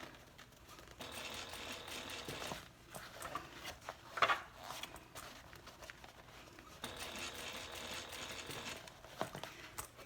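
A sewing machine runs in bursts while stitching a handbag seam, its stitch length set to 4.5, quiet and somewhat distant, with rustling of fabric and a brief crinkle between runs.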